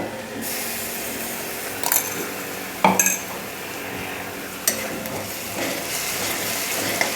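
A paste of ground garlic and chili is dropped into frying onions for a yellow potato bhaji and sizzles steadily, with a few sharp clinks of a spoon against the pan standing out over the hiss.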